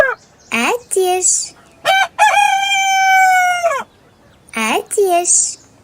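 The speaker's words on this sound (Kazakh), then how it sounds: "Әтеш." A rooster crows several times, loud and close, with one long sustained crow in the middle and shorter clucking calls before and after it.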